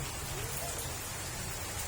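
Heavy typhoon rain falls during Typhoon Kristine floods in Naga City, a dense, steady hiss of downpour striking surfaces close by, continuous and unbroken for the whole clip.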